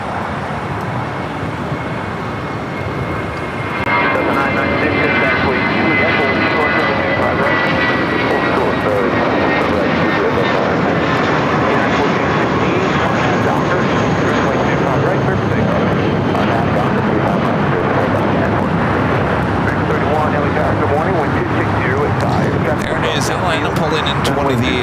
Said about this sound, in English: Hawaiian A321 heading to Lahui, heading up for a north side takeoff.